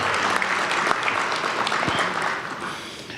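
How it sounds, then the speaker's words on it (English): Applause from an audience at an awards event, a dense wash of clapping that holds steady and then eases slightly toward the end, fairly close and without speech over it. "give them a nice round of applause again"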